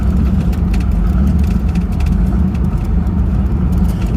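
A car engine idles steadily at around 1,100 RPM, a continuous low rumble with a mid-range whir held close and constant throughout.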